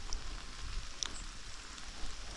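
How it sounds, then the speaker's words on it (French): Rain falling outdoors in an abandoned amusement park, a soft continuous patter with scattered drips, fairly quiet and without speech. "On est donc de retour sous la pluie"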